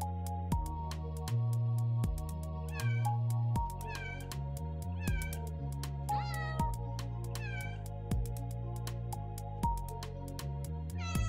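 In a video game, a crowd of cats meows repeatedly, with high, overlapping cries over a steady backdrop of game music and tones, loud and close throughout.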